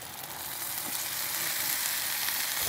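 Onions and beans fry in a pan, a loud, steady sizzle close by with faint stirring and no talking.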